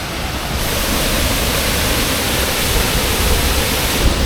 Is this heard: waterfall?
yes